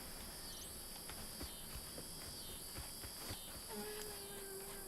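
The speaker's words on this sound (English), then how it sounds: "I like the sound of crickets." Crickets chirp in the video game South of Midnight, a steady, continuous high chirring that runs through the whole stretch at a moderate, even level, with a few faint incidental knocks and noises mixed in.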